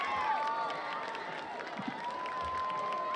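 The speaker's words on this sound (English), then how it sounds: "let's give a big round of applause" Crowd at a Bridgewater-Raynham high school football game cheering and applauding for the Ram cheer team, a steady wash of claps and shouts with a few whistles, loud and sustained throughout.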